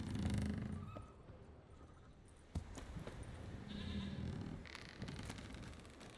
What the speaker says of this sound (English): Hearing a goat out there.